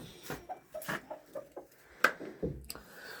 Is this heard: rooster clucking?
yes